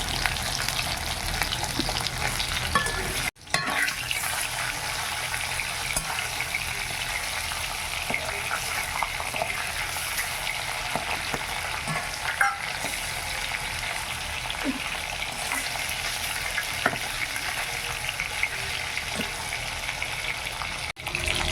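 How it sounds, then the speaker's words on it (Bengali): Hilsa fish frying lightly in hot oil in a village kitchen, a dense, even sizzle that runs close and steady throughout with small pops and crackles and a couple of brief dips, no voices. "এবার ইলিশ মাছটা ভেজে নেব, হালকা করেই ভাজবো।"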